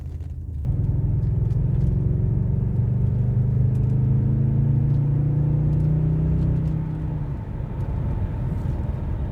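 A BMW E31 coupe driving, with a loud, steady engine drone and road rumble from inside the cabin that holds on and slowly fades near the end, with no talk.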